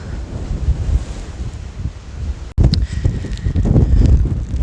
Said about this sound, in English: The wind's blowing away and it's raining